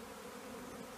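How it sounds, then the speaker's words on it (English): A swarm of honey bees hums in a continuous, even drone, faint and distant, during a swarm capture. "I got a bunch of bees. That is a lot of bees."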